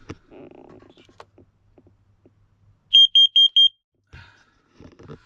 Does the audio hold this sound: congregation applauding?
no